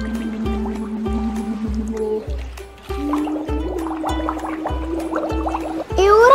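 Cartoon underwater bubble-blowing, a rhythmic series of burbling gurgles that repeat about once every half second, with a short pause midway, then bubbly sounds rising toward the end.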